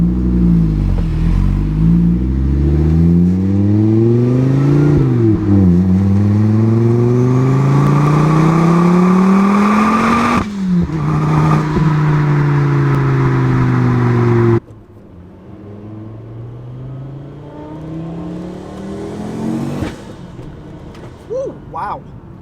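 A turbocharged five-cylinder Volkswagen engine with boost turned up revs hard through rising gears, its pitch sweeping up and dropping with each shift, loud and close, then settling to a quieter drone.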